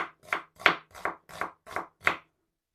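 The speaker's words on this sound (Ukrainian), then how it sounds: "Цибульку нам потрібно покроїти." Knife chopping onion on a cutting board for a Ukrainian zhur soup, seven steady crisp cuts at an even pace, close and clear with no talk.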